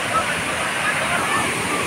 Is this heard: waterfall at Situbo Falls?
yes